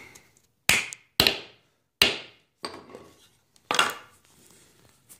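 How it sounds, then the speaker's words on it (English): Hammer blows strike wood during a homemade catapult build, five or six sharp separate knocks spaced irregularly with short ringing decays, close and loud in a quiet room with no talking. "do the hammering"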